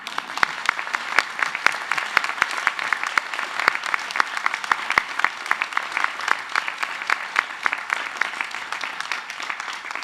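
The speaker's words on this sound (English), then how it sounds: "my notes now call for an enthusiastic applause" An enthusiastic audience at a UTS university graduation ceremony applauds the graduates, with a steady, full clatter of many hands and crisp individual claps punctuating it throughout.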